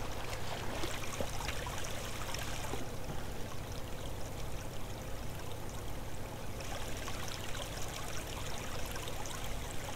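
Flowing water in the Minetest block-building game, a constant loud rushing and trickling stream sound that carries on steadily without pauses.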